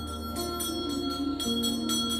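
A temple bell rings with a sustained, shimmering metallic tone, its long resonant hum lingering throughout, struck again partway with a second clear strike layering over the decay; moderately quiet and alone.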